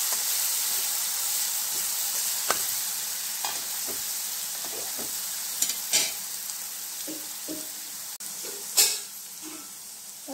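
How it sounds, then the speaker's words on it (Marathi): Garlic and chili paste sautéed with cumin seeds in a pan, a soft steady sizzle under repeated scraping and knocking strokes of a spoon, with a few louder clacks against the pan. "लसूण आणि मिरचीची पेस्ट केलेली आहे ती आता आपण त्यामध्ये टाकणार आहोत। छान परतून घ्यायचं।"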